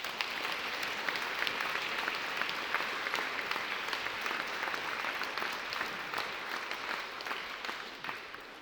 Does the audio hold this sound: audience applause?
yes